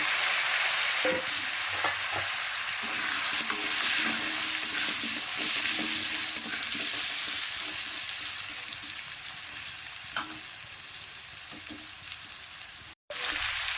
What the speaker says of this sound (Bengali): মাছ ভাজার তেলেতে আলুগুলো ভেজে নেব